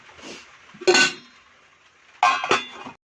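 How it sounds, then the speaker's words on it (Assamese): Lid placed on a cooking pot of boiling raw fish, two distinct metallic clanks a second and a half apart, close and clear, with faint rattling after each. "এতিয়া ঢাকনখন লগাই দিম।"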